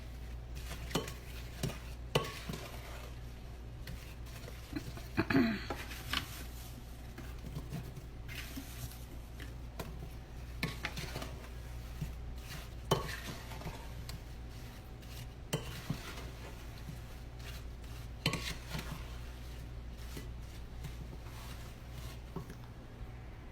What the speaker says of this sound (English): you're going to coat your apples with this mixture